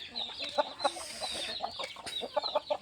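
Chickens at a breeding farm raising hens and chicks cluck in a busy, uneven patter of short calls, moderately close and fairly soft, with faint rustling around them.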